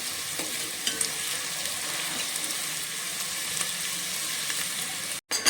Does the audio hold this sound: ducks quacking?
no